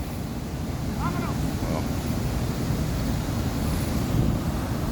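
Steady water current and lapping along the shore of Buckhorn Lake, a constant close rush blended with wind buffeting the microphone, with a brief faint tonal sound early on.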